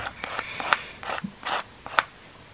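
A lottery scratch card from FDJ being scratched, heard as a handful of short, dry, raspy strokes close by, separated by brief pauses, with no talking.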